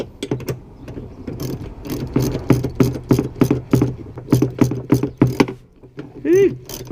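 A ratchet wrench clicks steadily in quick rhythmic bursts while loosening a Loctite-secured bolt on a 1990 Kawasaki 440/550SX jet ski, close and loud, ending with a short strained vocal sound.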